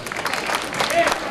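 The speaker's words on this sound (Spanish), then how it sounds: "Un aplauso fuerte para ella." An audience applauds at a tomato day festival meal in Cadreita, a brief burst of steady clapping from a crowd.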